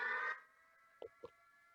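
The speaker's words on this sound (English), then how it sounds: "They piped in a nuclear alarm siren to let us know that we have" Nuclear alarm siren piped into a theater, a steady buzzing alarm tone that is loud at first, then continues more faintly, with two brief knocks partway through.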